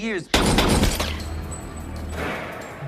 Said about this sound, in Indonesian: Aksi baku tembak pun terjadi di antara mereka.